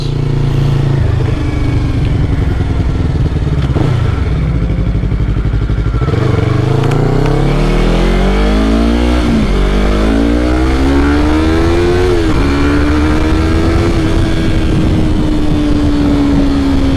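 A 2020 Yamaha YZF-R3 motorcycle engine revs up and down in repeated blips, then climbs into a sustained high-revving whine, loud and close with no talking.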